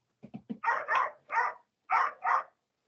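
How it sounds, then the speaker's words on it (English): Dogs bark at neighboring dogs in a short series, three quick sharp yaps followed by five louder barks in two bursts, close and clear against silence. "My dogs are barking at the neighbor's dogs for some reason."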